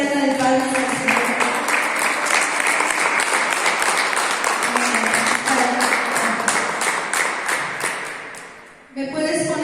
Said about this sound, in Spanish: ¿Por qué no le das una ofrenda de palmas al Señor?